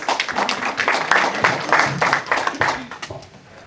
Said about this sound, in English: Please save your applause till the end, just so we can get through it